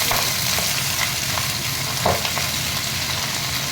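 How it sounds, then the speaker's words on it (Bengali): Mixed vegetables, kohlrabi, pumpkin, papaya, cabbage and beans, sizzle and hiss steadily in a hot pan as they are stir-fried, with a few soft scraping stirs standing out, close and alone without talk. "এবারে সব সবজিগুলো দিয়ে দিচ্ছি। ওলকপি, কুমড়ো, পেঁপে, বাঁধাকপি,"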